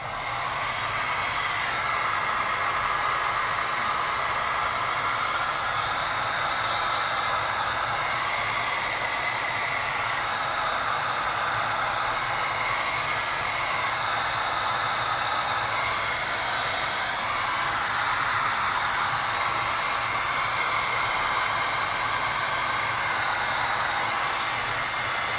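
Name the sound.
heat gun shrinking heat shrink tubing on a cable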